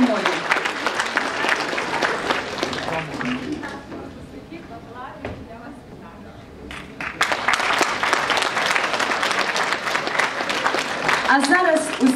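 An audience at a Ukrainian university's bachelor's graduation ceremony breaks into loud, dense applause that thins to a quieter patter midway, then swells again to full strength, with voices talking faintly underneath.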